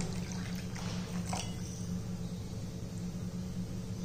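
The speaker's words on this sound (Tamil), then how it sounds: "இப்போ கொஞ்சம் கெட்டியாக இருக்குது, கொஞ்சம் தண்ணி கலந்துக்குவோம்" Water poured into thick pearl millet porridge (kambu koozh) while mixing, a faint liquid trickle and splash against a steady background hum, quiet and short.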